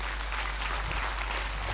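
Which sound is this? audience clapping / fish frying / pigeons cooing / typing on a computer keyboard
audience clapping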